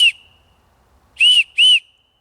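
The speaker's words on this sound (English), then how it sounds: "There's nothing wrong with blowing a whistle right now." Three sharp, shrill whistle blasts, one short then a pause and two close together, loud and clear with nothing else around them.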